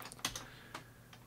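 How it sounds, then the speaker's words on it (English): A few soft, quiet keystrokes on a computer keyboard while a password is entered, four separate clicks spaced unevenly over about a second. "I'm going to type our password."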